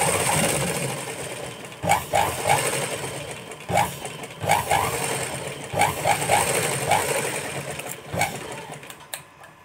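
A sewing machine stitches a folded fabric strip in a basic home sewing lesson, running in short repeated bursts with brief pauses between them, close by and steady in loudness.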